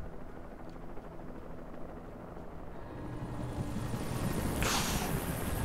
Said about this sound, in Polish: O, jeszcze helikopter.